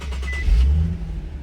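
A Nissan 370 engine cranks briefly and catches, rising into a short close-up rev before settling into idle.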